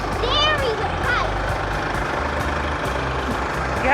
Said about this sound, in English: You have to yell to be heard over the tractor